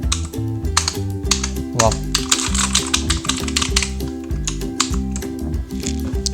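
Fast, continuous typing on a Redgear Shadow Blade MK853 mechanical RGB keyboard with blue switches, giving loud, dense clicky keystrokes in a rapid rhythm, with a brief spoken exclamation.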